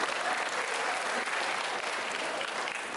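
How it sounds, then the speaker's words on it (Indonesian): A school ceremony audience applauds, dense and sustained clapping filling the room evenly from start to finish with no break. "Tepuk tangan sekalian."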